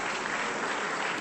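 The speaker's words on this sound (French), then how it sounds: "Il y a les applaudissements derrière." Steady, dense applause fills the French Senate chamber, an even wash of many hands clapping throughout.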